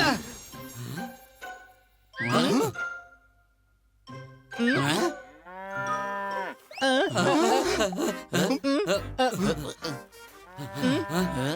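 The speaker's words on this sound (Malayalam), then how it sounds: "ഇത് പോത്ത് തന്നെയാ" A deep, drawn-out moo from a buffalo rises midway, surrounded by lively animated voices and jingling music effects.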